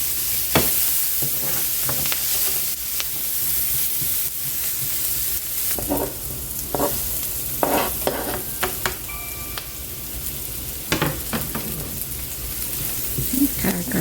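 Onions and garlic sizzle in a pan for cauliflower pork fried rice, with a steady frying hiss throughout and scattered scraping stir strokes near the mic.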